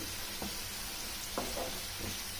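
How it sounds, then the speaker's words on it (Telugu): Green chilli paste frying in hot oil for a raw coconut curry, a steady close sizzle with occasional soft stirring scrapes and no talking. "మనం ఇక్కడ పచ్చిమిర్చి పేస్ట్ వేసాం కదా, అది ఆయిల్లో బాగా ఉడకాలన్నమాట."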